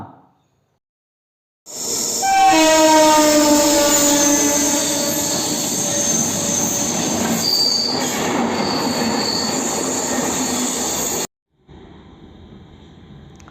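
A train departing Chennai Central railway station rumbles past nearby with loud, sustained wheel squeal and rising whine, running steadily for several seconds before cutting off abruptly.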